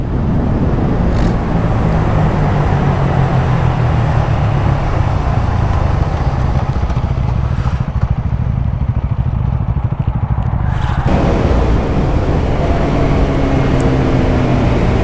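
Two motorcycles, a 2026 Bajaj Pulsar N160 and an older TVS Apache 160 4V, race side by side, their engines droning loud and steady throughout with heavy rushing wind noise.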